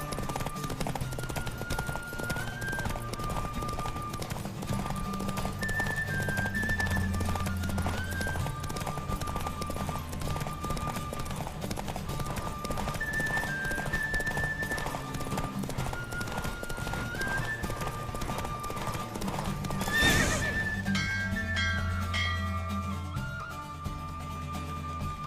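Horse hooves clip-clop steadily through a race in The Witcher 3, with occasional neighs and whinnies over game music, the pounding gait continuing throughout and a louder burst near the end.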